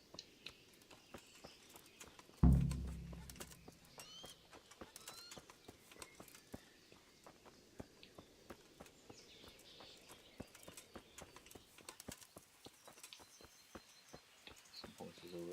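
Horse hooves clip-clop faintly and steadily in Kingdom Come's medieval countryside, with birds chirping around them and a brief loud thump near the start.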